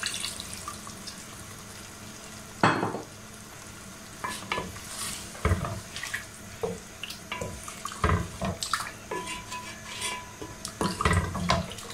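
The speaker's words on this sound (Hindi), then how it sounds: "अब मैं इसके अंदर पानी डाल दूंगी ताकि ये हमारा गोश्त गल जाए" Water poured into beef frying in a pot for white beef korma, giving stirring clatters, splashes and sizzling in uneven bursts at close range with no talking.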